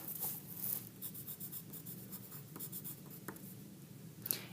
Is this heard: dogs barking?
no